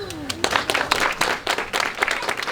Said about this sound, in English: That's another round of applause.